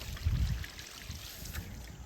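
Water spilling steadily from a pipe into a river swimming spot, a continuous soft rush with a low rumble that swells briefly near the start.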